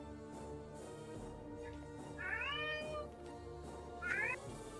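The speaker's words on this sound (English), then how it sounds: "I heard a cat." A cat meows twice, clear rising calls standing out above steady game music and background hum during a Pokemon stream.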